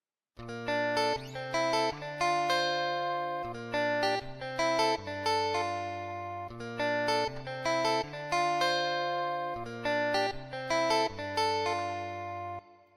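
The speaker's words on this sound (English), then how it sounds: "Then I added a guitar. The guitar sounds like this." Guitar part layered into a produced beat, playing a steady repeating chordal riff with bright sustained harmonics over a low bass pattern, loud and continuous with no talk.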